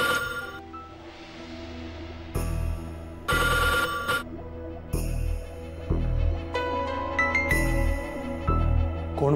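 A telephone rings late at night indoors, its bell sounding in repeated bursts with short gaps, loud and close, and no talk over it.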